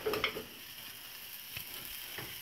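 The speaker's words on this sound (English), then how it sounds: "the skillet's nice and hot. What we do from there, take that sausage, drop that right in there" Sausage sizzles in a hot skillet for biscuits and gravy, a steady close frying hiss with a brief louder spatter at the start and a couple of faint clicks later, no talk.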